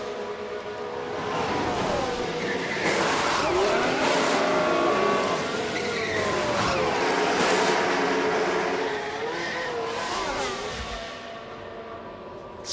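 F1 race cars from the F1 Manager 24 game rolling into the pit lane, a steady loud blend of engine drone and whine with pitch shifts as the cars pass, continuous throughout with no talk.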